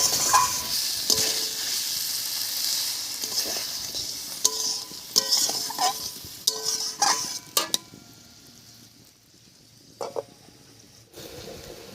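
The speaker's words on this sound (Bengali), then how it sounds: "এবার এর মধ্যে একটু জল দিয়ে কষিয়ে নেবো" Water is poured into a pan of sizzling spice masala for a fish curry, a loud frying hiss that softens as the liquid goes in, with scattered clinks of a spoon against the pan and no talking.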